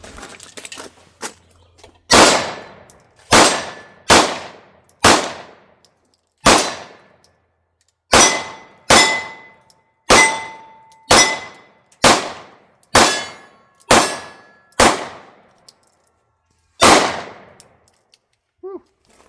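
Staccato pistol shots fired at steel targets, about fifteen sharp bangs each followed by a ringing metallic clang, some spaced a second apart and some in quicker runs, loud and close.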